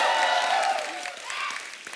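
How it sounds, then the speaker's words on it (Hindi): A television comedy studio audience applauds briefly, a dense near wash of clapping that fades quickly over two seconds. "जोरदार तालियां कपूर शर्मा के लिए।"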